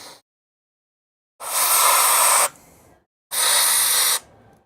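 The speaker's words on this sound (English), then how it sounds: "So I'm gonna hit it with brake clean one more time. I'm just brake cleaning these threads out" Brake cleaner sprays onto engine block threads during a 2JZ engine teardown, two loud close hissing bursts of about a second each separated by a brief pause.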